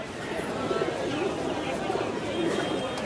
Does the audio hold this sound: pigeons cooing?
yes